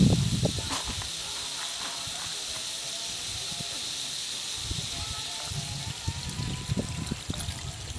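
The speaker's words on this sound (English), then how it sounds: "I'm gonna add 2 bottles of water," Room-temperature bottled water pours steadily into beef stew simmering in a Dutch oven, making a continuous close hiss and trickle with a few soft clinks and bumps near the start.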